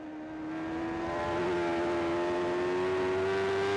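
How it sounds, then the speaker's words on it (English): McAdoo Kawasaki superbike, ridden by Conor Cummins at the 2009 Ulster Grand Prix, roars up to a high sustained pitch from onboard, a loud, steady, slowly rising engine whine exiting a corner. "Great onboard footage from the McAdoo Kawasaki as Conor Cummins exits Wheeler's corner"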